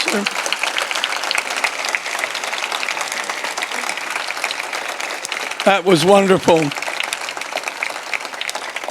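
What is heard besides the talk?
longer round of audience applause after a fireside chat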